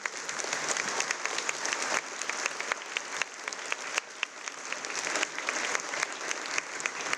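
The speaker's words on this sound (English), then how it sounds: "Can we get another round of applause?" A middle school assembly audience claps in a dense, sustained round of applause filling a large room, steady and even throughout with no voices standing out.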